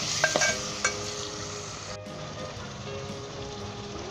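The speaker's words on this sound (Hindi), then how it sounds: "सिरका डाल के मैंने इसे मज़ीद 2 से 3 मिनट के लिए भून लिया" Chicken gravy frying in a pan after lemon vinegar goes in, a steady soft sizzle running throughout with a few light clinks of a utensil against the pot near the start.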